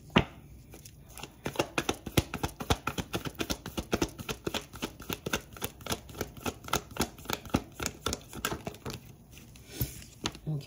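A deck of tarot cards is shuffled over and over by hand, giving a dense run of quick, crisp riffling clicks and slaps close to the microphone.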